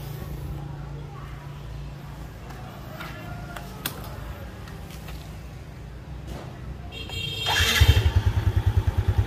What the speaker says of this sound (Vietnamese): bây giờ nổ máy thử xem như thế nào